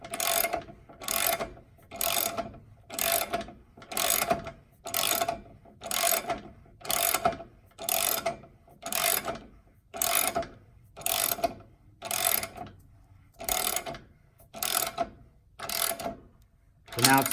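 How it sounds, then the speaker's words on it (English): Ratchet cranking to pull a rear subframe into a Volvo 850 T-5R gives steady, close clicking strokes, about fifteen evenly spaced bursts of rapid pawl clicks with brief pauses between, no talking over it. "Basically keep cranking this until it stops cranking."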